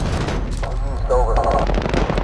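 Gunfire in a Call of Duty game: loud, rapid bursts of shots throughout a short stretch, with a voice shouting over the firing.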